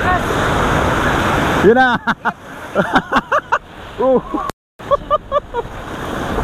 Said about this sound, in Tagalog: Sobrang lakas ng alon. Maabot dito sa bato.